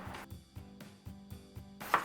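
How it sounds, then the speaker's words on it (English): A knife chops potatoes on a cutting board in a quick, even series of about eight close, thudding strokes, with a brighter clack at the end. "the first thing we're going to do is cut up our potatoes"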